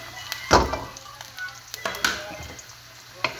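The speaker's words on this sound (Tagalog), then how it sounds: "igisa po muna natin ating sibuyas" Onion, garlic and ginger sizzle and fry in a pan for a Filipino coconut-milk tilapia dish, with brief bursts of loud hissing as ingredients drop in and are stirred, settling between into a quieter crackle, no talking.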